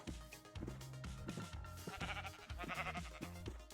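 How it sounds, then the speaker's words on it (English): Repeated Minecraft sheep bleats, several short wavering calls in quick succession over steady game background music, fairly loud and close. "I won't have to go very far looking for some sheep"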